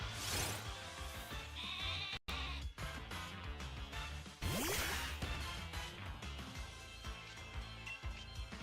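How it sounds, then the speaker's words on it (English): Game audio from Pokémon Shield with sheep bleats mixed into continuous, busy in-game music and effects, including a rising swooping tone midway, loud and steady with a brief dropout near the start. "Boom, more sheep."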